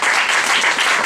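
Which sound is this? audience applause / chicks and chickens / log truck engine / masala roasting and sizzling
audience applause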